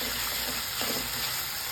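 Ginger garlic paste fries in a pan with a continuous close, loud sizzle, a soft stirring scrape midway, and no voices.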